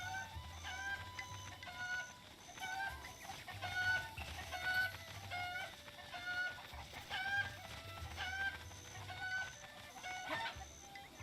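Chickens in the video game The Legend of Zelda: Breath of the Wild cluck repeatedly in short, scattered bursts over a steady game soundscape, moderately close and continuing throughout.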